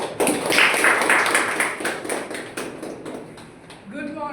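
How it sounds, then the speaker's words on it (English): A Toastmasters meeting audience claps together for a few seconds in a room, a dense burst that thins out toward the end, followed by a voice starting to speak. "Let's clap for ourselves."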